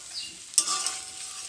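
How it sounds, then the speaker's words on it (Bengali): Boiled gati kochu (taro) being fried and stirred with spices in oil, a soft steady sizzle with a sharp scrape of the spatula partway through, close and quiet. "এবার একটু ভালো করে ভেজে নিয়ে এবার মশলা দিয়ে দিলাম।"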